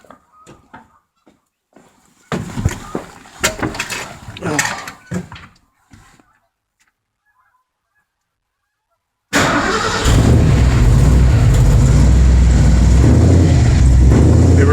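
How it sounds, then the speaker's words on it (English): A warm Ford engine fitted with an Autolite 4100 carburetor cranks with no choke, with clicks and mechanical rattles first, then a pause, then it catches and settles into a loud, steady running roar. "we're going to kick it over and"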